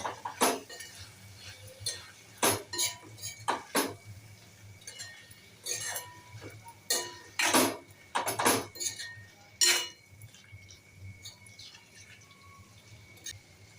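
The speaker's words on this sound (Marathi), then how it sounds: "छान परतून घेऊया" Cauliflower florets and potato being stirred in a pan, a series of close, sharp metallic scrapes and clinks from the spoon in uneven bursts, then quieter toward the end.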